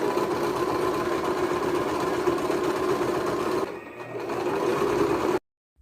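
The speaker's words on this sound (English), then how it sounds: "So I'm sewing up the sleeves right now." Sewing machine stitching sweatshirt sleeves, running in a fast, steady mechanical whir with rapid needle chatter; it briefly slows and quiets near the end, picks back up, then stops abruptly into silence.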